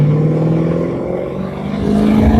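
A 1963 Ford Thunderbird convertible with a 390 V8 and three two-barrel carburetors idles loud and close, its deep throb dipping slightly then rising as the engine is revved up.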